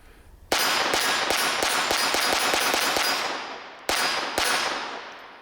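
A Walther PPQ .22LR pistol with a 5-inch barrel fires a fast string of sharp, ringing shots, a short pause, then two more, each crack loud and close.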